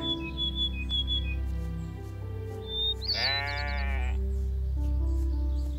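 A goat bleats in the game The Stillness of the Wind: one clear, wavering bleat in the middle, over a steady low ambient drone with faint whistle-like tones.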